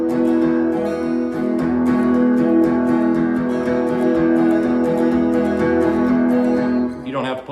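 Country guitar strums a driving boom-chick pattern meant to evoke a train clacking down the tracks, steady and loud, ending abruptly near the close.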